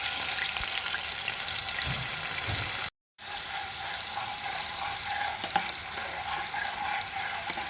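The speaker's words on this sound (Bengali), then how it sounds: "গরম তেলের মধ্যে এই হলুদ জলটা দিয়ে দিলাম" Turmeric-tinted water hits hot oil in a pan while fish curry is being cooked, bursting into a loud, hissing sizzle that breaks off briefly, then continues as steady bubbling frying noise with faint scraping.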